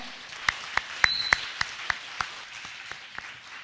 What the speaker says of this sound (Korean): 성공했으면 박수 부탁드립니다